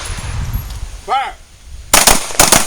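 Pistols firing at a combat pistol training workshop: after a voice shouts a brief command, sharp loud shots crack in two quick clusters, with rumbling background noise before them.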